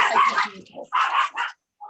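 Several dogs bark in short, close, loud bursts, a quick cluster of barks followed by a brief pause and another bark.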